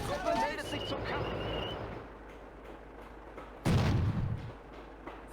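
Gunfire and artillery in a war video game: rumbling bursts and a heavy boom, with dense firing at the start and a loud blast later on, mixed under shouted voices and game chatter.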